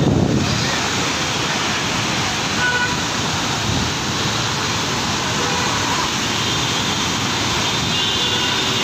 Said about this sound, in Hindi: पूरा पानी भर चुका है, पूरा पानी मार रहा है।